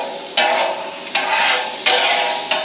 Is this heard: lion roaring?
no